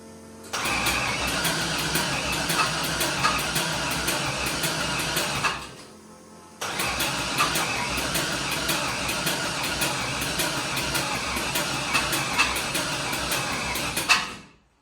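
An LS-swapped Nissan D21 Hardbody pickup cranks without starting, two long bursts of rapid, rhythmic starter churning, heard up close with a short pause between them and no ignition catching.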